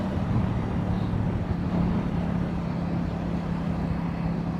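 A CF Moto 800 MT Explore motorcycle rides along with a steady, dense engine drone and strong wind rush, unbroken and close for the whole stretch.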